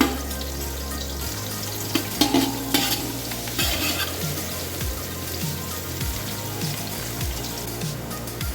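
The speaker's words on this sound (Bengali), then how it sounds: "পেঁয়াজগুলো আমরা মিডিয়াম হিটে ভেজে নেব" Onions fry in oil over medium heat with a steady sizzle, broken by regular stirring scrapes and clacks of a spoon against the pan.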